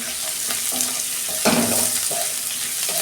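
Onions salted and frying in a pan sizzle steadily and close up, a dense continuous hiss with a few soft stirring scrapes and one brief louder burst midway.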